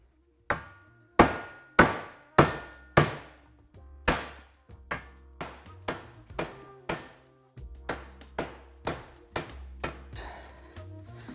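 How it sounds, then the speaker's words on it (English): Repeated mallet blows shrinking Porsche inner fender sheet metal, about sixteen sharp, ringing impacts in an uneven rhythm, loud and close at first, then slightly softer and quicker, with no talking. "I might have to use a mallet to get this started."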